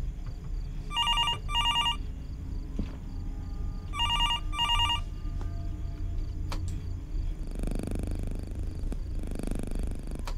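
Telephone in a horror video game rings in two double bursts of bright trilling bells, with quiet ambience and a few clicks and soft thuds between rings.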